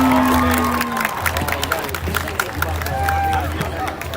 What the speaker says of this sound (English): out another round of applause for the Newcastle Red Hurricane Marching Band